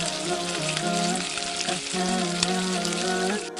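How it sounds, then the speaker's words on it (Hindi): Spice masala sizzling as it fries in a pan for Hyderabadi mutton yakhni pulao, a steady close crackle with bright spitting bursts, alone and without talk. "मसाले को थोड़ी देर भूनेंगे हम, ताकि इसका कच्चापन दूर हो जाए।"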